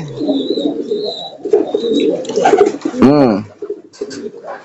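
Domestic pigeons coo in a loft where young squab are being paired off, with several soft rolling coos close by and a higher bird chirp or whistle recurring in the background.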